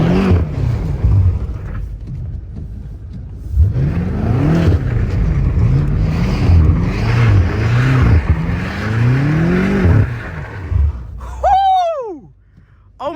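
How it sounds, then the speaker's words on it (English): A BMW M5 Competition revs repeatedly while spinning an all-wheel drive donut in snow, engine note rising and falling in loud waves, ending in a sharp high whine before cutting off. "I never did an all-wheel drive donut in this car"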